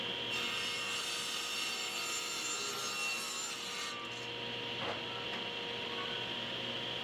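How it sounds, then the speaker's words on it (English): Sliding table saw cutting white oak boards down to size in a woodshop, a loud continuous whirring rasp held close throughout with a brief dip in the middle, no voices. "off to the slider to cut them down to size"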